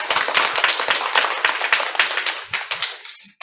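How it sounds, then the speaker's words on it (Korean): Congregation applauding during a Korean Sunday church service: dense, steady clapping from many hands fills the room for about three seconds, then thins out and stops. "하나님께 영광의 박수를 드리겠습니다"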